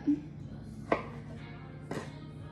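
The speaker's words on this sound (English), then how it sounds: "Cut, cut, cut. Chop, chop, chop." A knife chops through blueberry sweet roll dough on a board, two distinct close thuds spaced about a second apart over a quiet kitchen hum.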